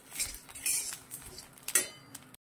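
Dry-roasted coriander seeds, toasted without oil, are scooped from a pan with a metal spoon, giving close, light scrapes and clinks in short bursts before the sound cuts off abruptly.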